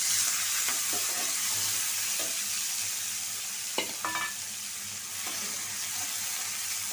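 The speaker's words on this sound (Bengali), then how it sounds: "আমি একটু করলা ভাজি করে নিব পেঁয়াজ আর কাঁচামরিচ" Bitter gourd fries with onion and green chili in a pan, giving a steady sizzle broken by a few sharp clinks and stirring knocks, near and alone.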